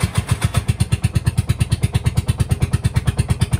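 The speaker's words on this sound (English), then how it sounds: "hit the ignition button and it should turn on" An auto rickshaw engine, cold-started on a morning run in Sri Lanka, chugs steadily at a fast, even, motorbike-like idle, loud and close, with no voices.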